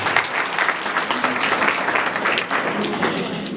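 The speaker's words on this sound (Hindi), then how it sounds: "जोरदार तालियां गौरव भाई" Thick, continuous audience clapping for actor Gaurav during cast introductions at a Maqsad Sanstha Group Uttarakhand theatre performance of 'Ajooba Baffol', fairly loud and unbroken throughout.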